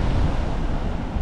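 Sea waves still rolling after a storm at Erdemli on the Turkish coast, a steady broadband wash of surf with wind buffeting the microphone, loud and continuous with no talk.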